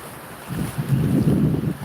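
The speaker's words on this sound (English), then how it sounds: "Just a few waves breaking at the beach." Small waves breaking on a calm beach after rain, a soft low wash that swells midway and lingers, mixed with gusty wind buffeting the microphone.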